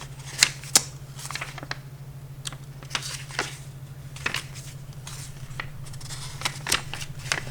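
Playing cards are flipped through one by one from a deck, giving close, crisp, irregular snaps and slides over a low steady background hum.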